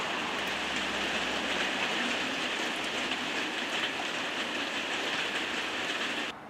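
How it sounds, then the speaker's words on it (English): Heavy rain teems down steadily in wet British weather, a dense, even hiss of pouring drops that holds loud and unbroken before dropping off at the very end. "It's just raining, it's just teeming down."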